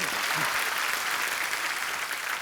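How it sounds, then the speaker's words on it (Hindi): A studio audience applauds loudly and continuously throughout, a dense, even wash of clapping from a full crowd at a television comedy show. "ठोको ताली, ठोको"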